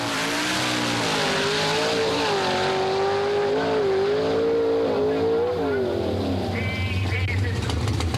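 Nitrous-injected, alcohol-fuelled drag car launching: a loud, close engine with rising and wavering pitch over several seconds, tyre noise beneath, then a deep low rumble at the end.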